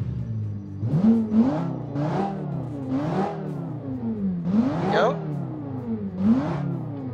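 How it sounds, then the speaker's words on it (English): Car engine in the Automation video game being started and revved, several rising and falling engine sweeps in repeated bursts, fairly loud and close, with a higher whine near the end. "Let's fire up the car."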